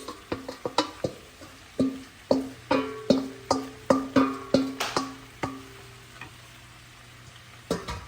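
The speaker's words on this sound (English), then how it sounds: "We're gonna go ahead and drop our shrimp in." Shrimp dropped into a hot pan with seasoning, a series of sharp metallic scrapes and stirs over a steady frying sizzle, fairly close, with the strokes easing off toward the end.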